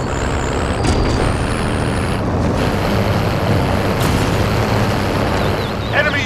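A vehicle driven in Call of Duty Warzone gives a constant loud engine roar and rumble, with a few brief high game tones and beeps scattered over the top.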